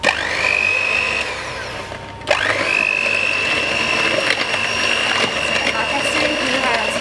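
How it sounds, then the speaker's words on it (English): A steady mechanical whirring, likely an electric whisk, runs through a sugar mixture for banana bread. It stops briefly, then restarts and carries on evenly, close by. "now to whisk it."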